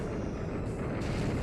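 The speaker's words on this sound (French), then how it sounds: "Il fait lumino canon." Flash Cannon attack animation in the Pokémon Moon video game: a dense, booming rumble of energy blast, loud and unbroken for about a second and a half, heavy in the low end.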